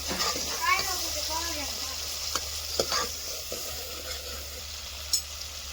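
A dal tempering sizzles in hot oil as curry leaves go in, a steady close frying hiss with scraping stirs and a few sharp crackles, while a voice talks over it early on.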